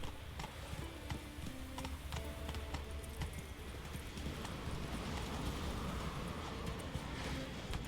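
Horse hooves clip-clop in a steady, irregular rhythm at close range, loud and persistent throughout, with scattered clicks over a low background rumble and no talking.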